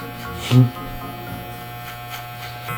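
An electric hair clipper hums steadily near the microphone, a low buzzing drone with a brief louder bump early on, running alone without talk.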